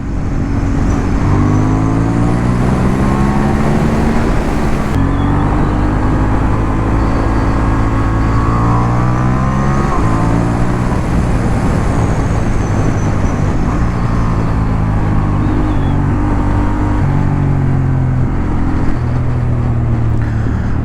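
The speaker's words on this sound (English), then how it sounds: "So yeah, this is a pretty fun bike actually." A 2023 Honda CB750 Hornet motorcycle rides along a road, its engine droning steadily and loudly throughout with shifting revs and heavy wind rush, no voices heard.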